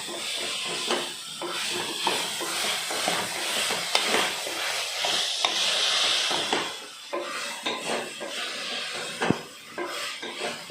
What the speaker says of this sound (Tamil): கொஞ்சம் காய் கொஞ்சம் வதங்குற அளவுக்கு ஒரு 2 நிமிஷம் வதக்கிக்குவோம்.